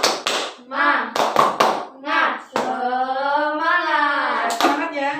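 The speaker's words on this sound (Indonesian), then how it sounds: "Tepuk semangat ya, biar tambah semangat." Schoolchildren in a classroom play the tepuk semangat clapping game, with sharp clustered hand claps in quick rhythmic bursts alternating with loud children's chanting voices, close and lively.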